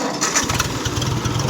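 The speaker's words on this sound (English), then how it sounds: "you're going to hit your starter switch right here" A 1957 Ford 640 tractor engine cranks on its starter, then catches into a steady, loud, low chugging idle that continues to the end.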